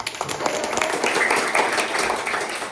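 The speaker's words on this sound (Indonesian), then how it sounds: "Semuanya tepuk tangan." Children in a sixth-grade primary school classroom clap together in a brief burst of applause, a steady patter of many hands at moderate distance lasting a few seconds.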